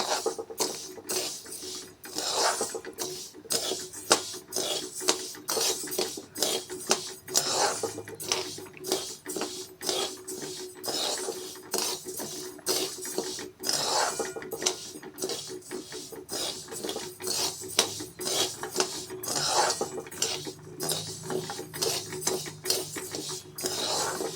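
Chakli bhajani flour being dry-roasted and stirred in a pan, a continuous run of quick scraping and clinking strokes of a spoon against metal, close and rhythmic.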